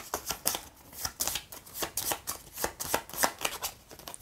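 Cards from a Joan of Arc Orléans draw-and-write board game shuffled and riffled, giving a quick, rhythmic run of crisp papery slaps and flicks, close and steady with no voices.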